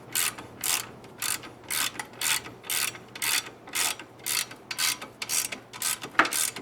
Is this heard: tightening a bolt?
yes